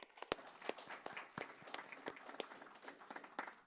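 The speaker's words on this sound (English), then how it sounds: "A round of applause for everyone." Scattered applause at a county school board meeting, individual sharp claps ringing out distinctly from a modest audience, uneven and fairly close, with no talking over them.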